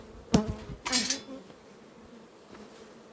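Honeybees buzzing as a second beehive is opened, two short close bursts of buzzing and clatter near the start, then a faint hum fading to quiet.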